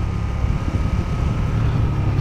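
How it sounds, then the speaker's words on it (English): A stock-exhaust 2015 KTM 1290 Superduke R motorcycle engine runs with a steady low rumble, close and loud, mixed with some wind noise. "this is the stock exhaust versus the Diavel's"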